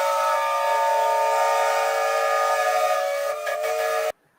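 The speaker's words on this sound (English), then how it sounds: "Bit of a whistle time." A steam whistle in a shed gives one long, loud, steady blast with a hiss of steam. It wavers near the end and then cuts off sharply, leaving silence.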